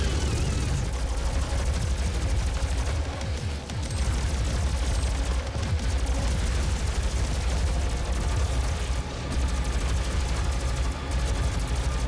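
Rapid, continuous gunfire from Doom 2016 on PC, with dense overlapping shots and blasts holding steady and loud for the whole stretch, broken only by a few brief dips.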